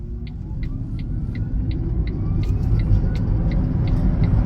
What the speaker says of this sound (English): Gonna do a quick 0 to 40 to 0 to let you all know there's nothing hiding in the suspension or braking system under full acceleration